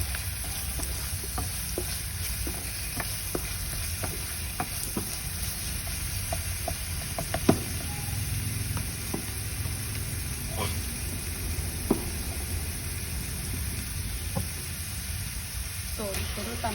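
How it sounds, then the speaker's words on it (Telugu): Ginger garlic paste frying in a pan for tomato elbow macaroni, a steady close hissing sizzle with frequent light taps and scrapes of a spoon stirring, continuous and fairly even throughout. "జింజర్ గార్లిక్ పేస్ట్ పచ్చి వాసన పోయే వరకు ఇట్లా ఫ్రై కావాలి."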